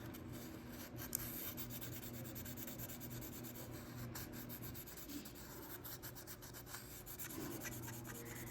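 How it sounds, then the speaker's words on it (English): Sandpaper is swiped lightly over a plaster floral intaglio, giving faint, close, soft scratchy rubbing strokes over a quiet background. "Just a very light swipe of it does a good job."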